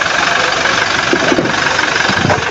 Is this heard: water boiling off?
no